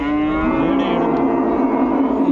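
A Holstein Friesian cow lets out one long, low, steady moo at a livestock market in Palamaner, loud and close, sustained from start to finish.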